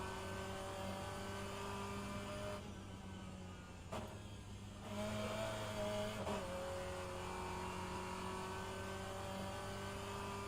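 A BMW 330i M Sport front-wheel-drive BTCC touring car racing in rFactor 2 around Croft Circuit, engine droning steadily with gear-change dips and a brief lull before revs climb again, constant and close.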